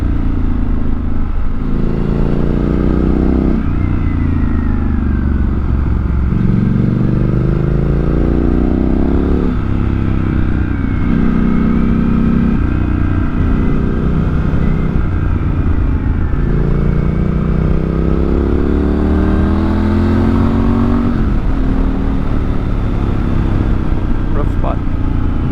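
Motorcycle on a winding mountain road, Route 197 in North Carolina, with the engine loud and close as it repeatedly revs up through the gears and eases off over wind rumble.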